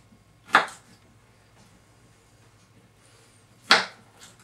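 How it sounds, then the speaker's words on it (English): Two sharp knife chops through chicken strips on a cutting board for a stir fry, spaced about three seconds apart, crisp and close against a quiet kitchen background. "just go ahead and give them a chop in half"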